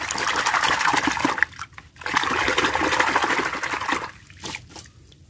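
Water splashes and trickles steadily over a muddy toy being washed, close and continuous with a couple of short pauses.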